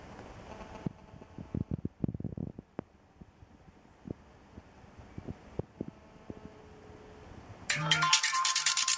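A mobile phone on an OpenBTS test network rings after a test call is placed, its electronic ringtone bursting in loudly near the end after quiet clicks and handling taps.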